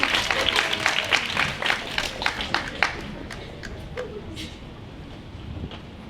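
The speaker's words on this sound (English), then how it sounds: "But clap for Mia Carpenter." Scattered applause at an awards banquet, a few seconds of clapping from a small audience that starts fairly strong, then thins out and fades toward quiet room noise.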